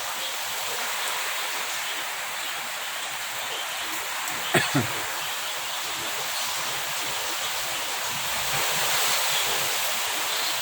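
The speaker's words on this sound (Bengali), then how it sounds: "দেখো কীরকম বৃষ্টি হচ্ছে" Steady, dense hiss of heavy rain pouring down, continuous and fairly loud, with a couple of brief knocks partway through.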